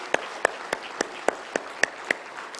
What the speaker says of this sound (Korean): 여러분 격려와 사랑과 그리고 축복의 박수 한번 올려주시길 바랍니다